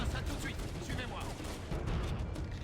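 Gunfire in the video game Halo: Combat Evolved, dense bursts and rapid shots overlapping continuously throughout, loud and busy, with voices mixed into the action.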